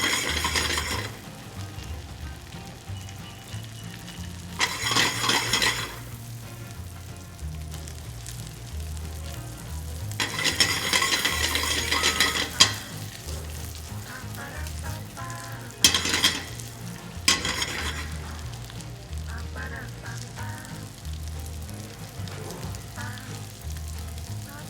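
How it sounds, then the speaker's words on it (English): Gnocchi fry in brown butter in a pan, a loud close sizzle with bursts of stronger crackling and spatter as they are rolled around, stirring scrapes in between, no talk. "So we're gonna put our gnocchi in there. Just roll them all around in that brown butter."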